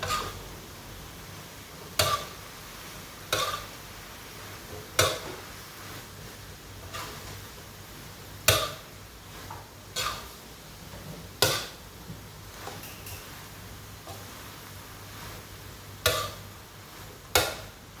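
Kan jong vegetables stir-fried with pork in a pan over high heat, with a spatula clanking and scraping every second or two above a faint, steady sizzle.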